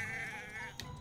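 Sheep bleating in Hogwarts Legacy, one wavering, drawn-out bleat heard up close over a busy game background, ending with a short bright click near the end.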